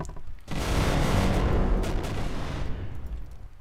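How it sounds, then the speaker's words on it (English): Bombs going off on a muddy race track in the Second Life game, a loud, sustained rumbling blast that swells from about half a second and fades out after nearly three seconds. "Someone is throwing bombs on the track."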